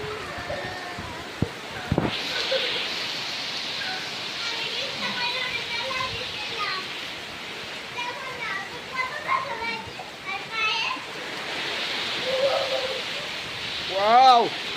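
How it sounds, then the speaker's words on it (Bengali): Heavy Kalbaishakhi storm rain pours down in a dense, continuous roar, with excited children and other voices calling out over it. "মুষলধারে বৃষ্টি হচ্ছে"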